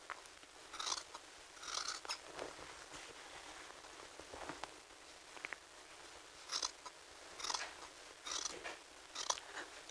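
Scissors snip through folded fabric at a garment's side seam. The soft, crisp cuts come in short, uneven bursts, quiet and close, with no voices.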